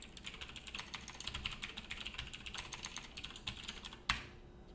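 Rapid typing on a computer keyboard, a steady run of close, crisp key clicks ending in one louder keystroke, with no talking.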